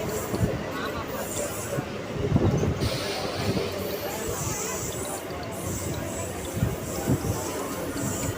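A Chennai local train travels smoothly, its steady rumble and rattle heard from inside the carriage, with passenger chatter and babble throughout.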